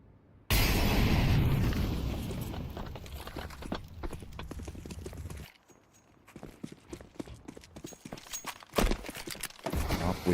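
A grenade blast in the Counter-Strike first-person shooter, a loud broadband boom that bursts in suddenly and rumbles on, then drops away, followed by scattered sharp in-game clicks and footsteps.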